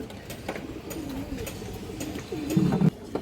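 A pigeon coos softly in short throaty phrases, one clearer call near the end, with light handling noises and clicks around it.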